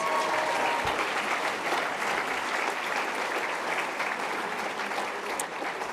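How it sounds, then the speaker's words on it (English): A large audience at the SCVO Scottish Charity Awards 2023 ceremony claps loudly and continuously, a dense sustained wash of applause that stays strong for several seconds before easing slightly. "Give them all a tremendous round of applause."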